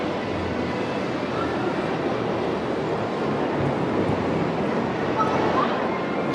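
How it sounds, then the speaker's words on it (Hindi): Hindi speech runs over a steady, loud rush of rail noise from a fast train painted in Indian tricolour, and the rumble holds evenly throughout. "ओ भाई साहब, क्या जबरदस्त ट्रेन है,"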